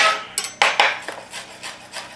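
A knife finely chopping rosemary leaves on a cutting board, several close, crisp irregular chops and scrapes in quick succession with no talking.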